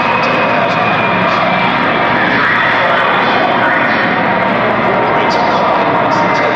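A fixed-wing aircraft on final approach to a carrier gives a loud, steady engine roar throughout, with a voice talking over it.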